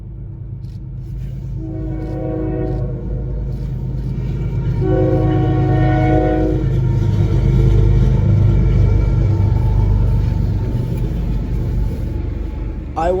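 Intermodal freight train passing near a rail yard with a deep, continuous rumble of cars while its horn blows two long chord blasts, near and loud.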